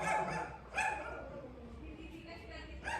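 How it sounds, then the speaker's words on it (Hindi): A street dog and a pet dog barking from different spots, a few sharp barks standing out over a steady background hum while someone talks. "नीचे स्ट्रीट डॉग भौंकता है, ऊपर से पाला हुआ कुत्ता भौंकता है"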